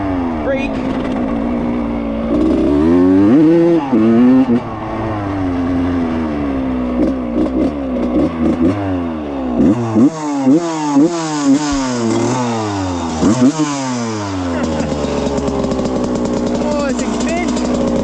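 A rebuilt 1995 RM125 dirt bike engine revs repeatedly, rising and falling in sharp, whining sweeps that climb in pitch, loud and close throughout.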